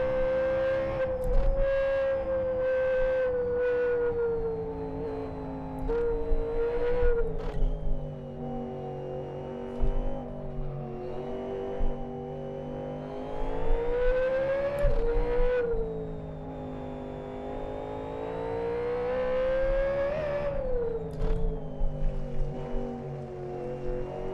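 Race car engine in the Live for Speed video game driving a lap of the reversed South City Sprint track, loud and continuous, its pitch rising and falling through gear changes with brief dips on lifts and shifts, no talking.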